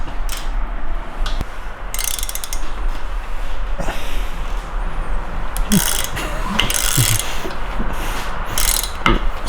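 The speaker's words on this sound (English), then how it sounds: "So we are finally spinning the motor." A ratchet turns a Mitsubishi 4G63 engine over by hand, giving close, loud, rapid clicking bursts with metallic clanks from the engine internals over a steady low rumble.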